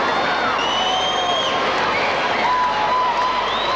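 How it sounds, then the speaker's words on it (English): Fans cheer and applaud during a victory lap after a six-a-side Wembley final, a dense, steady crowd roar with scattered shouts and whistles, continuous throughout. "All those fans cheering"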